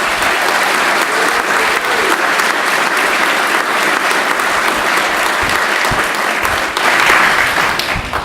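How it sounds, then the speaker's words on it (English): A crowd at a school graduation applauds warmly, with steady, full clapping that rises slightly near the end and carries on without talk. "Let's give you a big round of applause"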